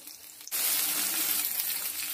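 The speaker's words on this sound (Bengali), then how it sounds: "পটলগুলো হালকা লাল লাল করে ভাজা হয়ে গেছে" Pointed gourd (potol) pieces frying in hot oil for a party-style chhyachra, a dense steady sizzle that bursts in loudly after a brief quiet moment and holds close and even throughout.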